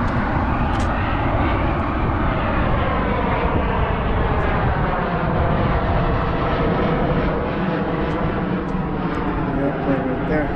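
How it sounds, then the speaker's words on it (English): An airplane near SeaTac Airport roars overhead by the South Park Bridge in Seattle in a loud, steady drone with a broad rumbling wash, continuing throughout. "Airplane right there."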